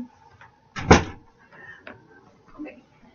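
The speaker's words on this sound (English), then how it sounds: "the circulation of air is going to open and close that door" An indoor door moved by a draft from an open window gives one solid thump as it swings shut, followed by fainter knocks and creaks, close by in a quiet room.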